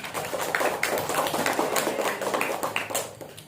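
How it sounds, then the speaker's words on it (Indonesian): Children clap together in a classroom, a dense run of quick overlapping claps lasting a few seconds at moderate loudness. "Tepuk tangan buat Hari."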